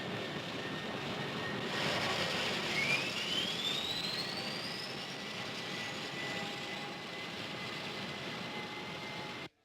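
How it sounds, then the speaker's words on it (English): An airliner's jet engines drone steadily in flight, a broad even roar with a rising whine through the middle that fades slightly toward the end, heard alone without talk. "On behalf of Captain Savage and the crew, I'd like to welcome you aboard Consolidated Flight 22"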